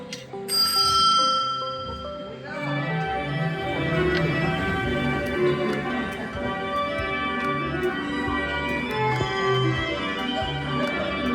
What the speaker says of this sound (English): the ride will start when you hear the bell